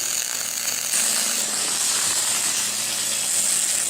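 A MIG welder runs a bead on thin aluminum, giving a loud, steady crackling hiss with a faint low hum beneath, which grows slightly brighter after the first second and carries on without talking.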